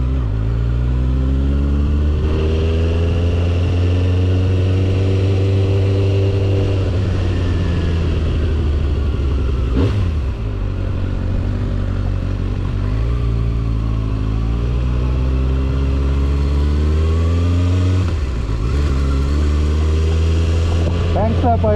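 A 2024 Kawasaki ZX6R motorcycle accelerates hard and shifts up through the gears with a quickshifter. The loud close engine note rises and then drops in pitch at each shift, with several gear changes spaced seconds apart.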